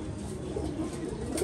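A pigeon coos softly in a low, continuous murmur, close by and steady, with no speech over it.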